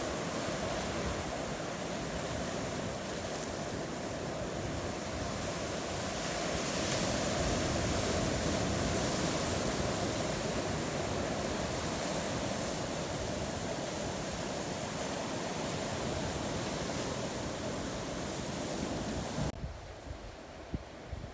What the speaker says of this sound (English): Out here by Campus Point, we have a rocky shoreline and tide pools.